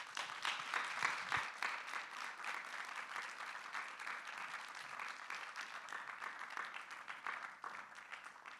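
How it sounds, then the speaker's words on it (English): An audience applauds a speaker at a talk event, with steady, moderately distant clapping that holds evenly throughout. "please give a round of applause for today's speaker"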